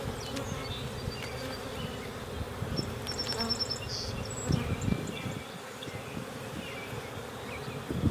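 Honey bees buzz in a dense, steady drone at an open hive during a May inspection, joined by a few brief thin chirps and soft clicks of handling, fairly faint, with no voices.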